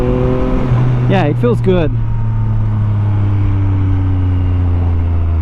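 A Yamaha MT-09 SP motorcycle with a flashed ECU pulls away as the throttle opens progressively, its engine tone rising steadily and droning loudly up close while a rider speaks briefly over it.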